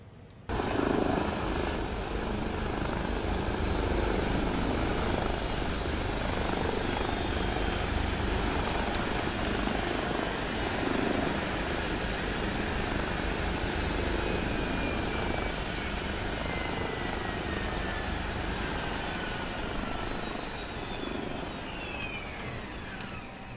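An Airbus H160 helicopter in Microsoft Flight Simulator runs its rotor and engines with a steady, loud turbine whine and rotor drone, easing slightly toward the end, with no voices.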